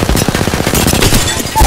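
Sustained automatic gunfire in the video game Apex Legends, a loud, rapid stream of closely spaced shots that keeps hammering for nearly two seconds with little pause.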